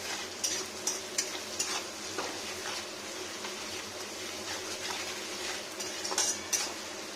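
Sliced onion and ginger fry in a pan for a chicken and broccoli dish, with a steady sizzle beneath scattered spoon clinks and scrapes against the pan, close up.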